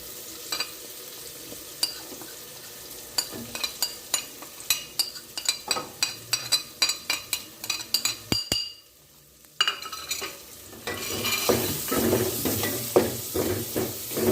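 Masala spices tipped into frying moong and masoor dal and stirred, with repeated scraping and clinking of a spoon against the pot over a steady sizzle that swells louder toward the end; no talking.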